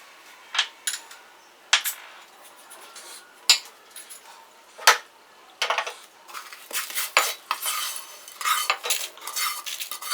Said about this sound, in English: Mix all the ingredients very well.